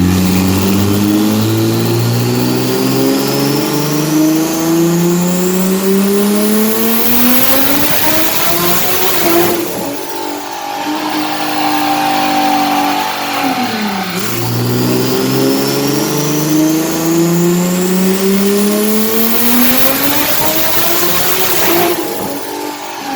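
A tuned BMW F80 M3 making about 1158 wheel horsepower screams through hard pulls on a dyno. Two long, loud climbs in pitch are separated by a brief drop back toward idle.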